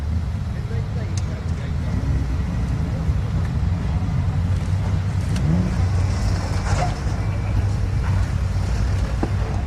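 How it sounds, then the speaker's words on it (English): A Nissan R32 GTS-T drag car with an RB26 engine and T88 turbo rumbles at a drag strip, its engine note rising under heavy wind buffeting, with faint voices in the background. "This R32 GTS-T is also using an RB26, again with a T88 turbo."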